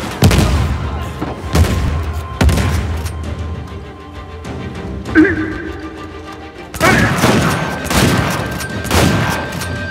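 Grenade explosions and gunfire in Uncharted 4: several heavy booming blasts and bursts of shots at irregular intervals with debris noise between, loud and near, with brief speech mixed in.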